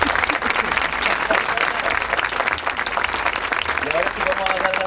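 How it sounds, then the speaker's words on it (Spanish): An audience at a talk on artificial life and machines applauds loudly and steadily for the full five seconds, dense clapping with crowd noise and some voices mixed in. "Primero quería pedir un aplauso"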